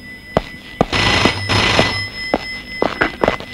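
A red landline telephone rings steadily, a bright sustained bell tone with a few sharp clicks and knocks around it, close and fairly loud, with no voices.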